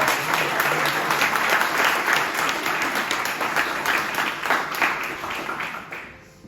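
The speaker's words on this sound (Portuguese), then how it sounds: "Dê um aplauso bem forte que é para Jesus." A large church congregation applauds steadily and loudly for several seconds during a worship service, the clapping thinning slightly toward the end.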